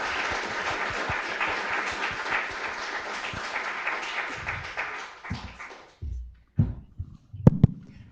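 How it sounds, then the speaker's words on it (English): A conference audience applauds the panelists of a space-economy panel at a summit, a dense wash of many hands clapping for about six seconds before thinning into a few scattered claps and knocks. "really give a huge round of applause for our wonderful panelists"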